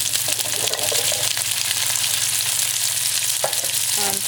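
Chickpeas hitting a hot pan give a loud, steady sizzle and frying crackle, with a few clinks and stirring scrapes near the end, no talking.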